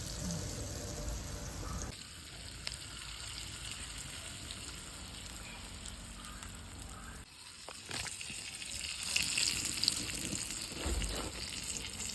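A pomfret fish shallow-frying in a pan gives a steady, soft sizzle that keeps going through the whole stretch. It fades a little partway through and then swells again, with occasional small crackles and no talk.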